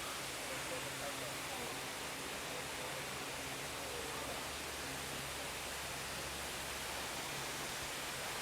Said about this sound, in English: Definitely a beautiful waterfall here.